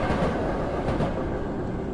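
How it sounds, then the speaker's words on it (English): A train rumbling along its tracks in the horror video game Tsugunohi, a continuous loud, dense roar with a rolling clatter of wheels, steady throughout and close by, with no voices. "A train going right to me."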